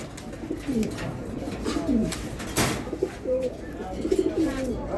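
Racer pigeons coo in repeated soft low throbbing calls close by, overlapping with a brief rustle partway through and faint background noise.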